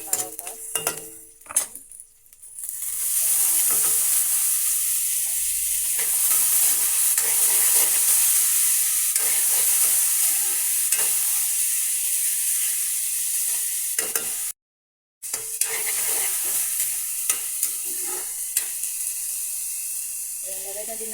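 Diced potatoes sauté with corned beef in a hot pan for ginisang corned beef, giving a steady sizzle and hiss with occasional stirring scrapes of a utensil, continuous and close with one brief dropout.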